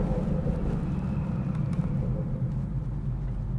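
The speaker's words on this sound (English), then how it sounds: "Turbo is just spooling up, bro." A BMW B58 inline-six turbo engine with MHD tuning rumbles steadily and loudly up close, a continuous low engine drone with no talk over it.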